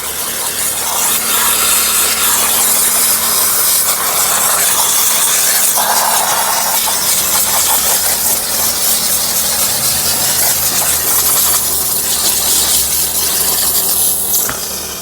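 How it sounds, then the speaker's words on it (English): A steam cleaner hisses loudly and continuously, close up on a car interior, its tone shifting slightly as it moves, with no talking. "we'll go ahead and just steam everything."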